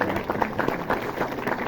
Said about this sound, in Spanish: Vamos a darle un aplauso, por favor, a Rubén.